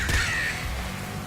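A crow in the Nuclear Throne video game lets out a single harsh caw, close and fairly loud, followed by a short decay.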